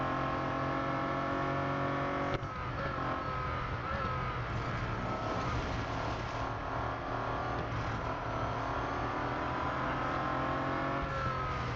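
Bentley Continental GT Speed race cars in Real Racing 3 roar continuously through a lap, engines droning and revving with layered tones from several cars close by.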